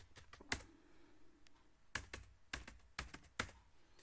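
A computer keyboard is typed on in scattered clusters of sharp key clicks, close and quiet, with pauses between bursts as form details are entered.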